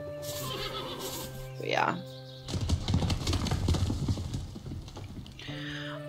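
A horse whinnies loudly in the Above Snakes video game, followed by a steady run of clip-clopping hooves, with someone briefly talking near the start and again near the end.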